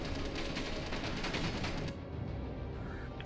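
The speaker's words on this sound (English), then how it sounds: "Now the missile turrets and the machine gun turrets are all locking on to me." Missile and machine gun turrets firing in Space Engineers, a dense continuous barrage of rapid shots and blasts that suddenly cuts off and leaves a dull, quieter rumble.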